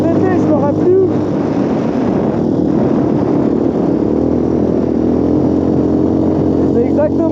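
A quad bike (ATV) runs on a snowy road, its engine a steady, droning hum close by with faint intermittent wind or handling noise over the top.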